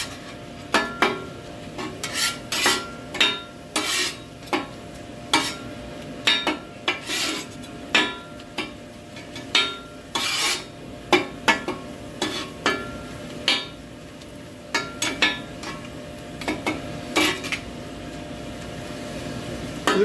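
A utensil scrapes and clanks against a pan while egg, curry leaves and cabbage fry for Sri Lankan egg kottu roti, with sharp metallic strikes at an irregular rhythm over a faint sizzle.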